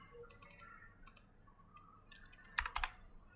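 Close, quiet keystrokes on a computer keyboard come in short bursts of rapid clicks separated by pauses, with a louder cluster of taps near the end.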